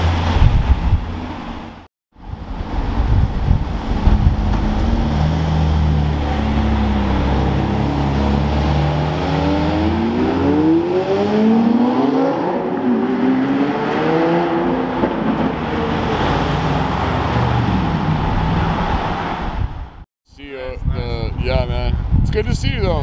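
A Lamborghini SVJ supercar pulls away from a car meet in the rain, its engine rising and falling through gear changes under heavy wind noise and people talking nearby.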